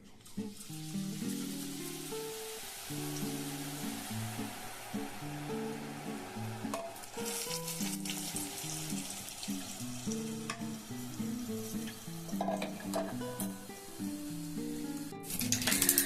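Red boondi, small drops of gram flour batter, frying in hot oil, giving a steady bubbling sizzle that runs through the whole stretch with faint clinks of a utensil above it. No one speaks.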